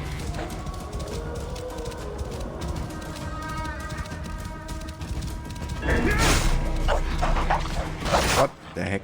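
About six hyenas in the video game Assassin's Creed Origins yip and whine together, a busy layered chorus of short cries and whimpers, with a louder crashing burst near the end and talking throughout.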